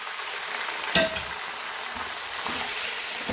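Chicken pieces for chicken korma fry steadily in hot oil in a pan, a continuous hissing sizzle with one louder clink of a utensil and a few soft stirring bumps, without speech.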